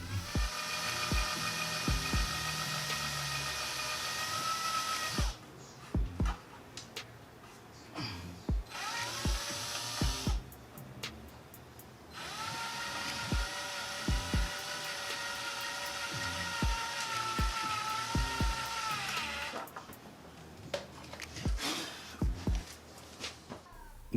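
A power drill drives screws into a car's front end splitter in several long, steady whirring runs broken by short bursts and clicks, loud and close with no talking.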